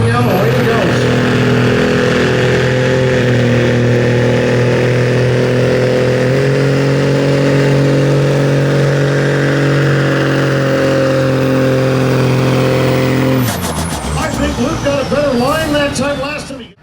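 A pulling truck at a truck pull event in Riceville, its engine held at a loud sustained high-RPM roar with steady harmonic drone, then shifting and surging near the end, very close and dominating, with an announcer talking over it.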